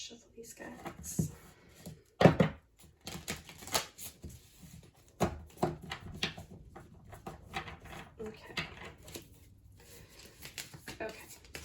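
A deck of cards is shuffled by hand in several short bursts of riffling and clacking, close up and separated by pauses, with a person talking quietly in between.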